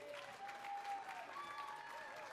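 A brief burst of audience clapping for a jazz band at an anniversary concert, faint and steady, with a voice faintly audible above it.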